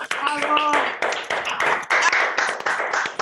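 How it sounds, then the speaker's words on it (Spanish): Applause from a group at a book presentation, dense clapping mixed with cheering voices and chatter, fairly close and sustained throughout. "Abramos micrófonos y aplaudimos"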